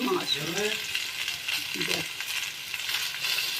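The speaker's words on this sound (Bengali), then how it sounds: "সেগুলো এবার এক এক করে দিয়ে কিছুক্ষণ নাড়িয়ে নেবো" Vegetables fried in oil in a pan for shukto, a Bengali mixed-vegetable dish, being stirred: a steady close sizzle with scraping spatula strokes, a short burst of voice early on.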